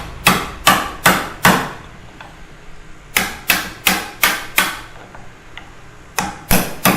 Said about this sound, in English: We'll pare it down. You can pare it down.